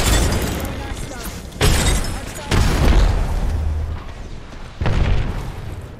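Frag grenades explode in the Apex Legends video game: three loud, booming blasts with crackling, shattering tails land a second or two apart amid ongoing battle noise.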